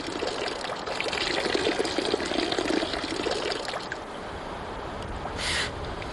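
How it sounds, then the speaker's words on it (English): Gold pan swirled through water in an outdoor sluice setting, giving a steady close sloshing and trickling of water and sand that rises and falls without talk. "I get the chance to try out panning for myself."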